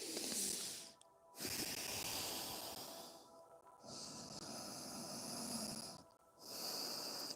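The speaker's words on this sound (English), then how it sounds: "breathing through your nose" Slow, deep breaths through the nose during a yoga session, long airy hissing inhales and exhales separated by short pauses, close and steady with no talking.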